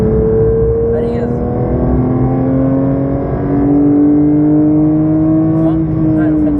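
A car accelerating hard on the Dreux race circuit in France, its engine note climbing steadily through the gears, loud and close, with a brief dip and then a renewed pull, while a coach talks over it.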